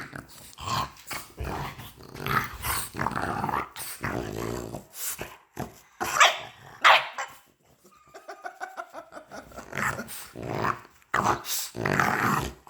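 A dog growls and barks in irregular bursts, with rumbling snarls mixed with sharper yaps and whimpers. The dog is close by, with short quiet gaps between outbursts.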